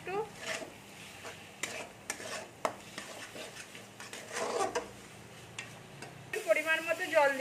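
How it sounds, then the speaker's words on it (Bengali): Spices and poppy seeds frying with potato and brinjal in a pan, a soft sizzle broken by scattered scrapes and clinks of a spatula stirring against the pan, with a louder, busier burst of sizzling near the end. "মশলা কষতে কষতে পোস্তটাও ভাজা হয়ে যাবে একটু।"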